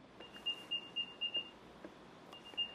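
An Apple AirTag chirps out its locate sound at about 60 decibels: a series of short, high electronic beeps in quick bursts, fairly faint over quiet room noise.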